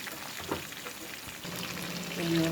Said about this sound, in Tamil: இப்போ பாருங்கள் நம்ம மீன் வந்து நல்லா ஃப்ரை ஆகிடுச்சு